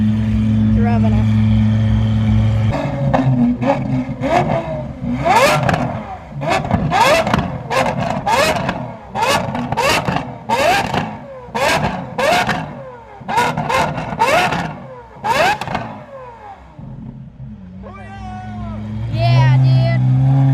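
An Audi R8 sports car revving at a car show, a series of sharp, loud throttle blips rising and falling in quick succession, with people talking and cheering nearby.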